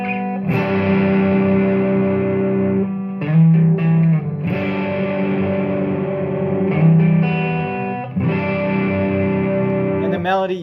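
Distorted electric guitar run through effects, strumming chords in steady, sustained, ringing strokes with reverb, loud and close, with short pauses between chord changes and no talking.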